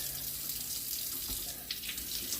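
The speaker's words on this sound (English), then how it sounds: "Very gently rinse your root ball." Tap water runs steadily and close by as a coleus root ball is gently rinsed in a sink, a continuous hiss and splash with no talking.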